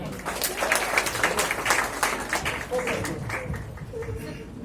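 Loud applause from an audience at a Hindi-language ceremony honouring dedicated students, dense clapping that swells and holds steady for several seconds.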